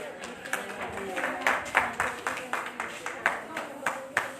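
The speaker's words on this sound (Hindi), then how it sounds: "आपके लिए जोरदार ताली हो जाए सारिका जी के लिए।" A small group claps in applause to honour Sarika at an award ceremony, with uneven, scattered claps over a murmur of background voices.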